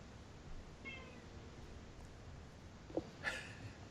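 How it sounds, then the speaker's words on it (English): A house cat meows faintly and briefly twice against a quiet, hissy background, with no talking. "then a cat meows and no one says anything"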